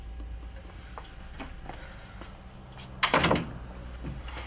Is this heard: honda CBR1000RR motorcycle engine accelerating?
no